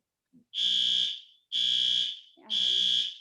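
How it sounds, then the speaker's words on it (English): A high-pitched electronic alarm beeps in three long, even bursts with short gaps between them, loud and close. "it sounds like this alarm is going to stop"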